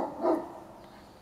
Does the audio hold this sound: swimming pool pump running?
no